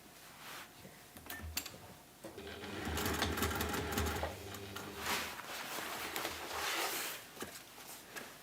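A sewing machine runs in a steady, fast whirring stitch across the ends of a waxed fabric tote bag, close and fairly loud, pausing briefly before resuming for several seconds with faint handling noises around it.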